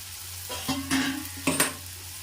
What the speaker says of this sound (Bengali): একবার টমেটোগুলো সেদ্ধ করার জন্য বা গলে যাওয়ার জন্য একটু ঢাকা দিয়ে দিচ্ছি